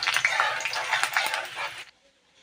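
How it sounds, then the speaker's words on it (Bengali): Chopped onion hitting hot mustard oil with garlic in a pan, a loud broadband sizzle that crackles steadily for about two seconds and then cuts off abruptly into near silence. "পেঁয়াজ কুচি করে রেখেছি, দিয়ে দেবো এবার আমি পেঁয়াজ কুচি।"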